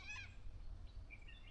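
A bird calls at night in a forest: a short run of faint, thin chirping notes at the start, then a couple of softer high calls, over a low steady rumble with no talking.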